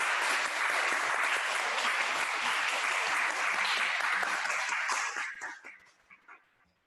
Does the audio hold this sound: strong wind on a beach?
no